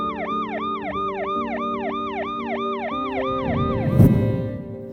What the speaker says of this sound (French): des centaines de manifestants se sont écartés pour laisser passer une ambulance